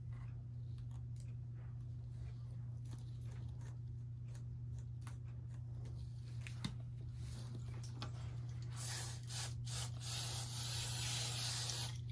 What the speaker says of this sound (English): That's a firm hold hairspray.